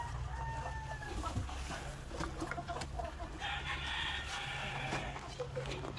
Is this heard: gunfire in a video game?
no